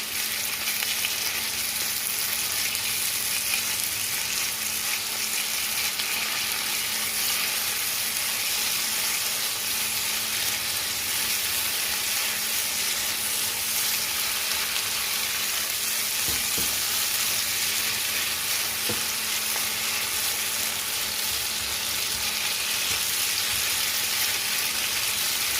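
Meatballs fry in a pan with tomato puree being stirred in, a steady close sizzle lasting throughout, broken by a couple of soft knocks from the spoon, with no talking.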